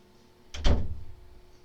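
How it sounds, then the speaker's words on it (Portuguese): A door bangs shut once with a single dull, fairly loud thud that fades quickly into a quiet room. "A porta aqui bateu, peraí."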